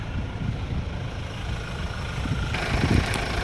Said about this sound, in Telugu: మీకు ఒక్కసారి ఇంజిన్ సౌండ్ అనేది చూపిస్తాను